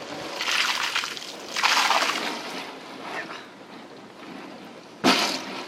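Water from a bucket splashes and sloshes out in a few uneven bursts, with a sharp short splash near the end.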